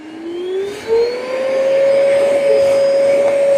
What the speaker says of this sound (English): it ramps the suction up only when I'm on there